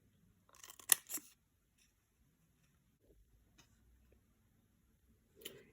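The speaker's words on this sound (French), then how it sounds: "Vous prenez par la suite vos ciseaux et vous découpez comme ceci les quatre coins." Scissors snip the four corners off a piece of paper for a Stampin' Up tulip-shaped Ferrero chocolate holder. There is a close, crisp burst of cutting near the start, then a few faint handling taps and one last short snip at the end.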